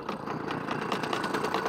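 A small outboard boat engine, pull-cord started, idling on a river in central Africa, with a quiet steady chugging rhythm heard close up and no voices.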